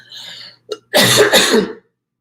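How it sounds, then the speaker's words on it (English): A close, short throat clear, then a brief harsh cough bursting out in two quick pulses. "I'm going to cough"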